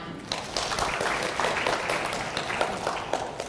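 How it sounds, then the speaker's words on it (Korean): At a smart factory conference session, the audience gives steady, moderately loud applause to welcome the next speaker, with individual claps audible through a continuous patter. "박수 한번 부탁드립니다"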